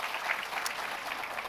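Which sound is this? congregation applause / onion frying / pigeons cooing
congregation applause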